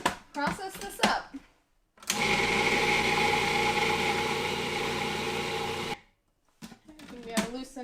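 A food processor blending a falafel mixture runs for about four seconds as a loud, steady whirring grind, then stops, with brief talk before and after it.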